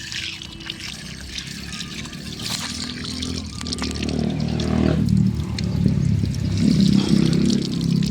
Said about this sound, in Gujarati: હવે નળ ચાલુ કર્યો છું